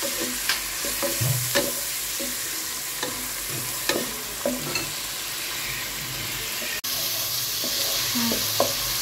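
Chicken stir-frying in a pan with soy sauce and tomato sauce for fried rice, a steady close sizzle punctuated by repeated spatula scrapes and taps at an uneven rhythm.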